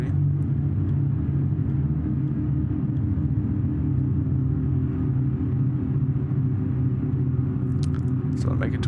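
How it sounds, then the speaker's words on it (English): A Canadair CL-215 aircraft comes in to land in BeamNG.drive with its gear down, a steady low engine drone and rumble that holds evenly throughout, with a few faint clicks near the end. "let's put the gear down again, and let's land"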